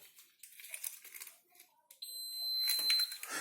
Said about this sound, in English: And that beep means it's gonna get to work.